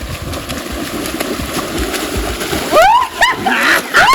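Swimmers racing in a farmhouse swimming pool churn up loud, steady splashing close by, while excited voices shout and cheer over the water.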